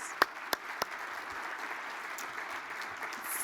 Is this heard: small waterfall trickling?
no